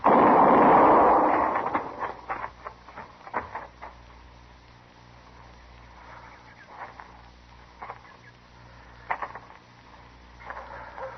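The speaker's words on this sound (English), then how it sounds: "Give me the shotgun, Rose." A shotgun blast in an old-time western radio drama, one loud booming shot at the start that decays into a quieter stretch with a few faint knocks and thuds.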